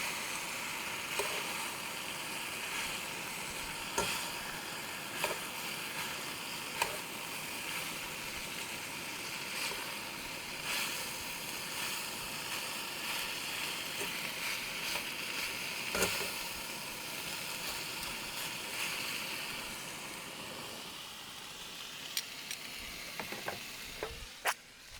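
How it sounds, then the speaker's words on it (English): Vegetables sizzle and fry in a pan at a winter campsite in Oklahoma's Ouachitas, a steady dense crackle with a few sharp stirring clicks and clanks near the end, close and alone. "We're gonna toss those veggies in there now."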